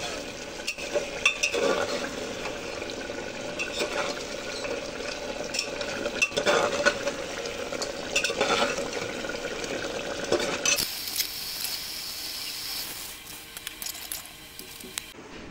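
A beef and chana dal curry with bay leaves is stirred in a pot, with a spoon scraping and clinking against the metal over a continuous frying sizzle, close and steady.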